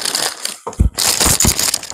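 Plastic packaging for a desktop streaming light with phone holder is pulled apart and crushed close up, loud crinkling and crackling bursts with a brief pause partway through.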